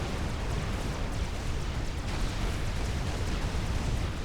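Wagner units in the Supreme Commander game fire plasma cannons in a dense, continuous roar of blasts and bursts, loud and sustained without talk.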